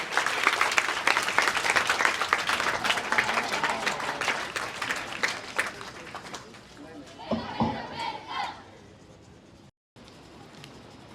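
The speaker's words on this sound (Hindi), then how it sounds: "वेलकम क्लब को सभी की गड़गड़ाहट के साथ बुलाइए सर को।" An audience at a youth club's Independence Day celebration applauds to welcome the chief guest on stage, with dense, steady clapping that thins out into scattered claps and murmuring crowd noise.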